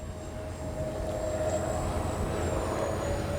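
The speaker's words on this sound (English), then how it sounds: "it's such an easy flying A-10. Half throttle right there." A Freewing 64mm A-10 RC jet with electric ducted fans flies at half throttle, giving a faint, steady distant whine with a thin high tone that holds throughout.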